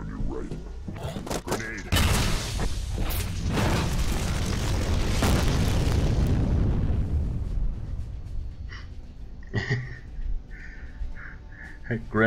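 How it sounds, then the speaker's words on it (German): A loud grenade explosion in the video game F.E.A.R. bursts, followed by a long, rumbling roar that slowly fades, with scattered sharp noises and voices afterward. "Look out, Grenade."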